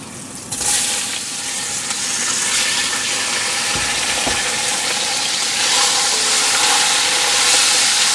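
Smoked ham hock dropped into a pan of sizzling sweet cabbage for a Romanian dish, with a loud, steady hiss and crackle of frying that swells and carries on throughout, with no talking.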